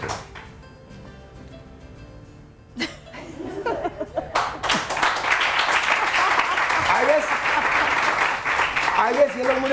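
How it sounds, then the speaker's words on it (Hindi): A studio audience at a live morning television show bursts into applause after a quiet start, with clapping building to a loud, sustained roar mixed with laughter, while a host talks over it. "लेडीज एंड जेंटलमैन, बहुत सारी तालियां"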